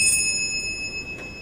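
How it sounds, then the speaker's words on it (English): A single bell struck once, a faint, sustained high tone with steady overtones that hangs over a quiet background and fades slowly, with a slight second swell near the end. "The bell invites me."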